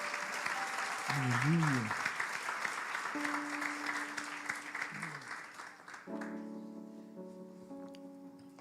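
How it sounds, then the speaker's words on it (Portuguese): A church congregation applauds during a sermon, sustained clapping spread across the room with a voice calling out briefly, while sustained keyboard tones and singing rise underneath before the clapping fades. "Você pode aplaudir por Jesus por essa mensagem?"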